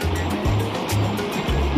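Stream flowing in Japan's Iya Valley, a steady loud rushing and splashing of water filling the short moment.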